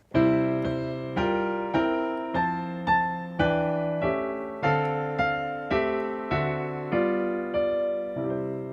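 Piano playing a 2-5-1 chord progression, a steady sequence of about fourteen full struck chords, each decaying before the next, close and moderately loud with no voices.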